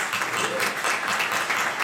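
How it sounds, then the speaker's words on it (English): Conference audience applause at a sport management conference, a short continuous wash of clapping at steady moderate loudness throughout. "Please give them a round of applause."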